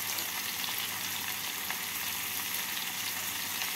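Vegetables for a bottle gourd leaf curry sizzling in a hot pan, a dense, steady crackle of frying that runs unbroken and close throughout, with no voices.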